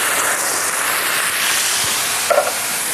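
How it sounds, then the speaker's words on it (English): Tinned tomatoes poured into a hot pan with basil fizz in a steady, close hiss of sizzling that holds evenly for a few seconds, with a brief soft clatter near the end. "And in with the tins of tomato."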